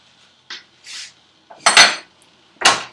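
Metal pot lid clattering and clanking onto a cooking pot of greens, several sharp bright hits in quick succession, close and loud with no talk.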